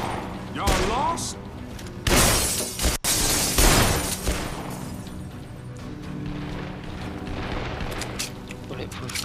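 In the video game Dead Island, glass shatters in sharp bursts amid crashing impacts and a sudden loud smash near the middle, with voices talking over the chaotic noise.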